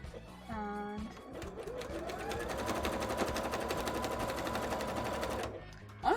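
A sewing machine stitches zigzag layers on a bra, a rapid close mechanical chatter running steadily for several seconds after a brief pause, then stopping.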